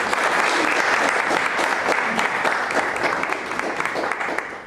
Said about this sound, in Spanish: Un fuerte aplauso para la mayoría.